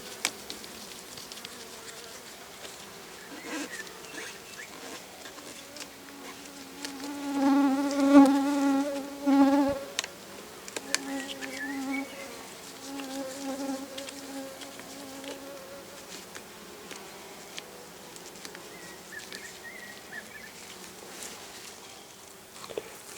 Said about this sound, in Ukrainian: Ось де вся бджола.